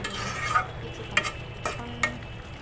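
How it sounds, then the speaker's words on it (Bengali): A spoon scrapes through a dish cooking in a pan on low heat, making three or four distinct stirring strokes spaced about a second apart over a soft background sizzle. "ফুল আসার পর আমি একটু নেড়ে চেড়ে"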